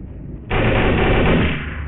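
Video game gunfire, a loud, continuous burst of rapid automatic shots that starts suddenly and runs to the end of the clip.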